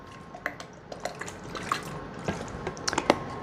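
Several dashes of Worcestershire sauce shaken into a spinach artichoke dip in a kitchen: a run of small, irregular drips and splats, close and fairly soft, over a faint background hiss.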